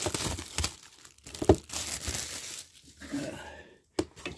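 Plastic seal being torn and crinkled off a 2021 Topps Museum Collection trading card box, close-up crumpling and ripping in uneven bursts with short pauses and a sharp snap near the end.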